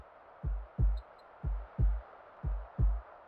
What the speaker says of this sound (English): Whose heartbeat is this?